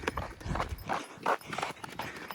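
A mare arrives home, her hooves clopping in a few uneven, close steps over a short stretch of background noise.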